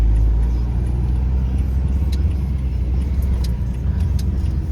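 A large van drives slowly through narrow country lanes in Norfolk, its low engine rumble and road noise steady and close throughout, with faint rattles above.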